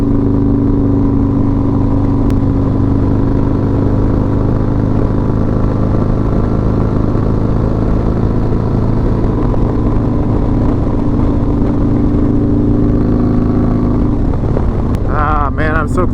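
Harley-Davidson Road Glide riding on an open road, a loud continuous engine drone with steady wind rush and a rising throttle near the end, a voice speaking over it.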